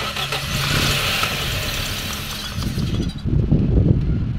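A Toyota Corolla engine with new valve seals but still smoking and misfiring is cranked, roaring at high revs before settling into a rough, uneven idle, loud and close.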